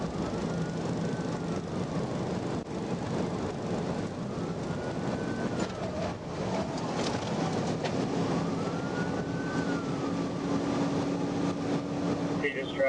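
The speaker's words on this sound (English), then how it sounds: "He hit the lights and sirens" A police car siren wails in slow rising and falling sweeps during a high-speed highway pursuit of a silver Lexus, set against a steady bed of road and engine rumble.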